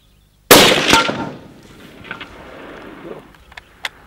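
A single rifle shot cracks during a hunt in South Africa, a loud close blast followed by a rolling echo that fades over a few seconds, with faint small noises afterward.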